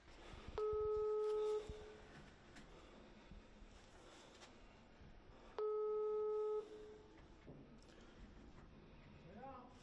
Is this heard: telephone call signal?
yes